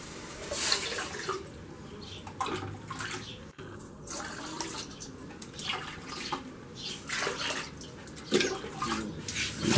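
Water poured into a cooking pot set on the stove to make cornmeal xima, heard as a steady splashing, trickling stream close by, with a few louder gushes toward the end and no talk.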